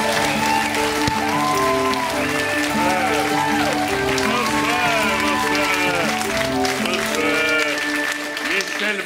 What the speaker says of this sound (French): Je voudrais que nous l'acclamions ensemble.